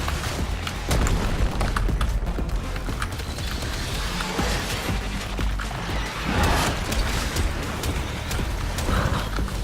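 Bombs popping and exploding in the video game Warframe: a dense, loud run of overlapping booms and thuds, continuous throughout with sharp bursts layered over a heavy low rumble.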